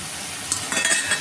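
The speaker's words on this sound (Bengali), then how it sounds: "একটু মাছটা ভাজা ভাজা করে নেব" Fish frying in a pan, a brief hissing sizzle with a few quick scraping stirs near the end, close and fairly loud.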